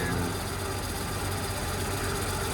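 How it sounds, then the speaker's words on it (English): An old V6 engine in a 1967 Chevy Nova, running without an air cleaner, idles in a steady, loud, even rumble with no breaks throughout. "old engine's still getting it"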